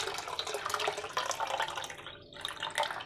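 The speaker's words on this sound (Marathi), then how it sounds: "हे मी सगळं पाणी आपल्या या ताकात टाकून घेते" Water pours steadily into buttermilk, a continuous close splashing and gurgling that lasts a few seconds without pause.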